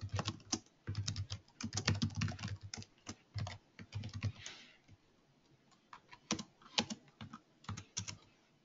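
Keys on a computer keyboard clatter in quick irregular bursts as an email address is typed, close and moderately loud, with short pauses between runs of keystrokes.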